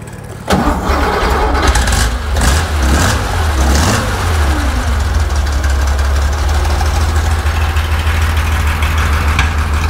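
A car engine fitted with a 123 electronic ignition cranks, catches and settles into a loud, close idle, running with a slightly uneven throb after starting.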